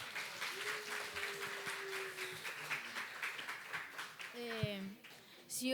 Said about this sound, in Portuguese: Vamos aplaudir as duas que vão falar aqui.